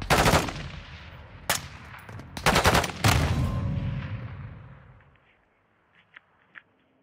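Gunfire in Call of Duty Modern Warfare 2: loud automatic bursts and single cracks crowd together, then fade into quiet with a few faint distant pops.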